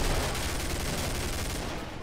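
Magnum revolver fire in the co-op horror shooter Killing Floor, with Halloween mod gameplay: a dense, continuous roar of loud gunfire and blasts filling the whole moment without a break.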